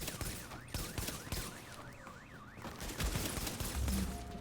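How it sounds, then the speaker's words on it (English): Rapid bursts of sniper and automatic gunfire in the shooter video game The Division, sharp cracks layered over a warbling alarm-like siren tone, with a heavier volley toward the end. "This sniper does so much damage."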